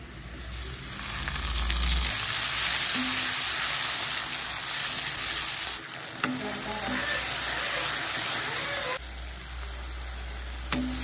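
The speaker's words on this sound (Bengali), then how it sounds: "পেঁয়াজটা আমি একটু হালকা বাদামি কালার করে নেব।" Chopped onions with a pinch of salt fry in hot oil until light brown, producing a loud, continuous close-up sizzle with occasional clinks and scrapes of stirring.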